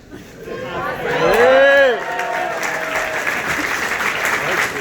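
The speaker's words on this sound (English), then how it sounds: "a big round of applause for the Rockies" An audience at a Rockies fan event breaks into loud applause, with whoops and a rising whistle or cheer near the start, then steady clapping continues under crowd chatter.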